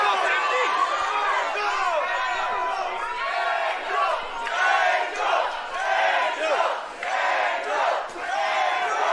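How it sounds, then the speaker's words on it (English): A boxing arena crowd roars and chants loudly and continuously, voices surging in waves, with rowdy shouting throughout. "And this crowd is really, really amped up"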